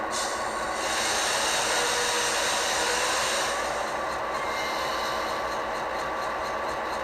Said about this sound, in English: Which does play the setting of the brakes.